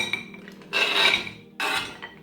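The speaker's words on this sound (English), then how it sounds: "Now put the chocolate into a bowl." Roughly chopped dark chocolate pieces tumble into a bowl in two short bursts, a near, clattering rattle against the dish with a quiet pause between.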